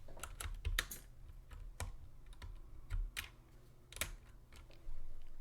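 Hot-swappable switches being pulled from and handled on a mechanical keyboard with speed silver switches, a string of sharp plastic clicks and ticks at uneven intervals, close and quiet with no talking.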